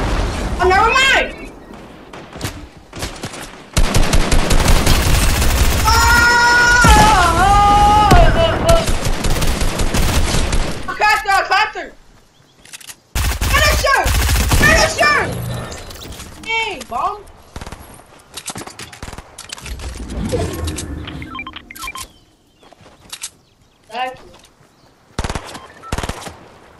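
Rapid automatic gunfire in a video game, loud dense bursts and volleys that come and go, with people talking over the shooting.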